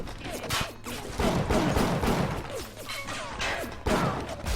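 Gunfire in the video game BioShock, with repeated loud shots and heavy impacts in close bursts amid game noise and crashes, and voices heard in places.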